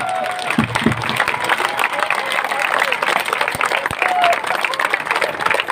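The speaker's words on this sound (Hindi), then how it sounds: "एक बार गठजोड़े की ताली बजानी है सारा ने" A large crowd at an Indian election nomination rally for an independent candidate breaks into loud, sustained applause and scattered cheering. The clapping continues steadily throughout.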